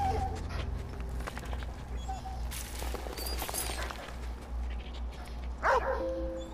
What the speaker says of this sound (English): That is a good dog right there.